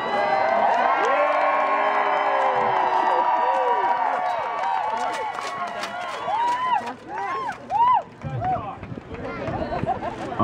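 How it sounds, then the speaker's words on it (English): Crowd at a medieval fair cheering and whooping from many voices, loud and sustained, with an announcer's voice talking over it; the cheers thin out toward the end into scattered shouts. "you guys over here can cheer too."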